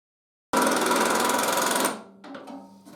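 Power drill or driver whirring steadily for over a second while driving screws into an Ozito router table, then stopping abruptly, followed by faint clicks and light handling noise.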